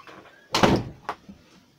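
A door thuds open in a room, one loud close knock-like impact followed by a smaller second bump and quiet handling sounds.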